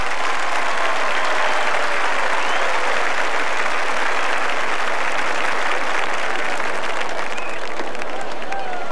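A stadium crowd at a 1986 GSU versus SC State football game applauds the band's seniors, loud, continuous clapping and cheering that stays dense and unbroken throughout.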